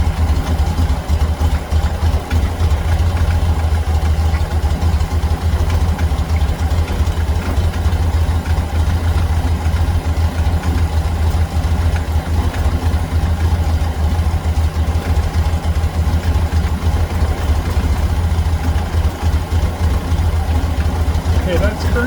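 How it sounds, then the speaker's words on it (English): A 1600 VW Beetle engine with a 34 PICT3 carburetor idles steadily at about 900 RPM, a low, even rumble that runs without change throughout, close and fairly loud. "let's get the engine so that it's running at about 900 RPM"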